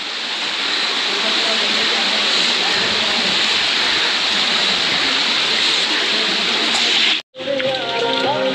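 Rainwater rushing down the stone steps of Lohagad Fort near Lonavala while rain falls above: a loud, dense, continuous hiss of flowing water that cuts off abruptly near the end.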